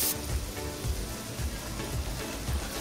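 Fifty grams of Amul butter sizzles steadily in a preheated pan while cooking mutton, a continuous close crackling hiss with faint rhythmic pops underneath and no talking.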